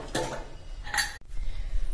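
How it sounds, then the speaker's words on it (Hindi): Metal clatter of a pressure cooker lid being handled and lifted after cooking arhar (toor) dal, with a couple of clinking knocks and a short hiss, close by and moderately loud. "अब मैं कुकर खोल लेती हूँ"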